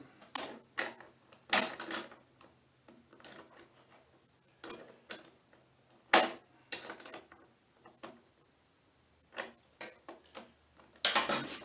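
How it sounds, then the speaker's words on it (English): A clamp being shifted on a woodworking jig for cutting a wooden sphere of pentagon faces: a scattered series of short, close mechanical clicks, taps and scrapes separated by silences. "now I gotta move this clamp out a little bit"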